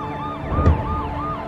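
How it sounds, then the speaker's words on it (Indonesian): An ambulance siren wails in a rapid, repeating rise-and-fall pattern, loud and steady against a low engine rumble, with no voices. "Simok mengikuti jasad Yong yang dibawa dengan ambulan"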